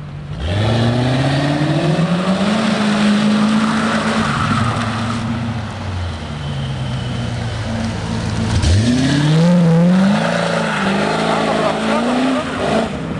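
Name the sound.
car engine revving while drifting in second gear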